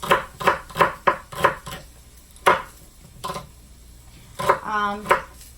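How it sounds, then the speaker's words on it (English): A knife slicing celery sticks into thick pieces on a cutting board: a quick run of five or six sharp chops, a pause, then a few more isolated cuts with a brief clatter, close and loud with no talking. "Okay, then we're gonna go ahead for those celery sticks. Now I do regular slices."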